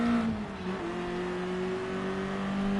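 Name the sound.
racing car engines in video game GT Sport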